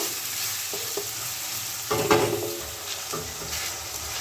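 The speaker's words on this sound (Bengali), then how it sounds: "মাছগুলো ভালো করে আমি একটু ভেজে নেব" Fish frying in a pan for a Bengali prawn curry, a steady crackling sizzle with a brief louder burst of spattering and scraping midway, close and without any voices.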